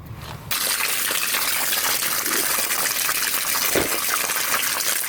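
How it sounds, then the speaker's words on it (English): Water gushes steadily from a newly installed outdoor faucet, a silcock hose bib, starting abruptly and running loud and constant at close range. "Now, as you can see, the water's coming out."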